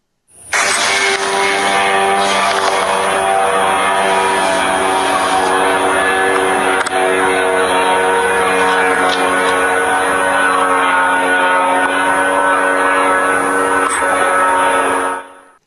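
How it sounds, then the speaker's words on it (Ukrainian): Attack drones fly toward the military airfield at Morozovka while they are being shot at. A loud, steady droning engine buzz runs throughout, with a few faint sharp reports. "Чути, як летить, чути, як намагаються збивати."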